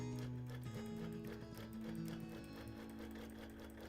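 Sewing machine running a steady, continuous hum while free-motion quilting and basting stitches over a quilt of 1930s reproduction prints, with a constant motor drone and no talking.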